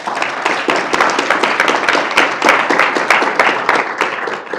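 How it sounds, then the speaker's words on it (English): Audience applause for a panel at the close of a Working Globally session with Ambassador Patrick Kennedy, a dense, steady round of many hands clapping, loud and close, with sharper individual claps standing out. "I hope we can do one more round of applause"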